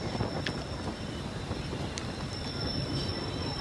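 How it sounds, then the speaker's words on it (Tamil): A steady, broad rumble of an electric MRTS train rolling along elevated rails in Chennai, heard from a distance with wind noise and a faint high whine throughout. "Electric train."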